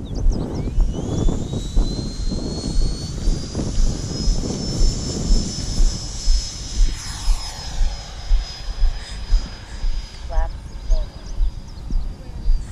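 A Freewing F-22 Raptor RC model jet takes off, its electric ducted-fan whine climbing steadily in pitch and holding a loud, high tone, with wind buffeting the microphone and someone talking over it.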